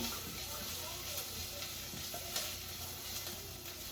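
Steady frying sizzle from food cooking in a pan, a continuous soft hiss with small crackles throughout, quiet and close, with no pauses.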